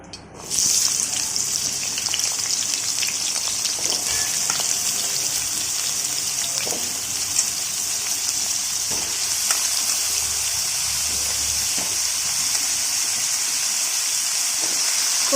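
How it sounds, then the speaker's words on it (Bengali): Pumpkin pieces fry in mustard oil in a wok, giving a steady, loud hiss and crackle that runs unbroken from start to finish, with no voices over it. "এবার আমরা কড়াইতে দিয়ে দিচ্ছি সর্ষের তেল এবার আমরা কুমড়োগুলো ভেজে নিচ্ছি"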